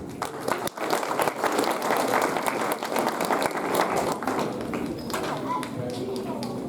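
Audience applause after a stage show performance, a sustained wave of many hands clapping with distinct sharp claps, loud and close, fading slightly toward the end as a voice comes in.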